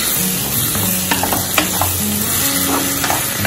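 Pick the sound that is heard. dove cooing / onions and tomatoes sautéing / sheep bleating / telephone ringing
onions and tomatoes sautéing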